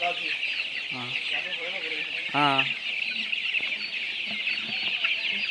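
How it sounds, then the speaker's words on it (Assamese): Local chickens and small chicks on a poultry farm in Assam cluck and chirp in a busy, ongoing chorus, with a few louder nearby clucks and a voice speaking briefly. "চাওক এতিয়া পোৱালিবিলাক যাই আছে মুৰ্গীবিলাক"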